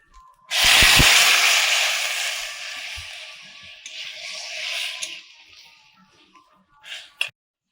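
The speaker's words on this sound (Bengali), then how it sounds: "মাংস সেদ্ধ করেছিলাম, ওই জলটা দিয়ে দিচ্ছি।" Water from boiling meat is poured into a hot pan and erupts in a loud, close hiss. The sizzle fades over several seconds into quieter crackling and bubbling, with a few faint clicks near the end.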